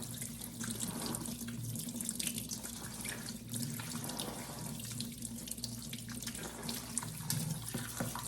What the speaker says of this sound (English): I'm gonna use cold. And then I'm gonna start to really rinse the shrimp.